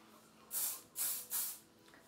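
Hairspray hisses from an aerosol can onto short curled hair in three short close bursts, with quiet pauses between them.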